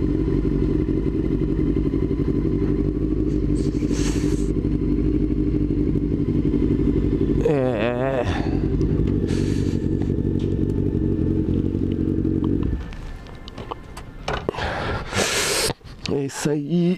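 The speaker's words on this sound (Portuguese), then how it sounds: "já tem uma motinha aqui, outra ali, outras ali na frente" Motorcycles out on a street in Japan, one engine idling and running loud and steady up close for several seconds, then cutting out, followed by clatter and short bursts of other traffic; someone talks over it.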